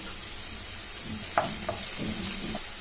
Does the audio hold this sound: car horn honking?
no